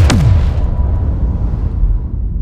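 Sound effect of a star exploding, a loud deep boom with a sharp initial burst that sweeps downward and then rumbles away into a long low decaying roar.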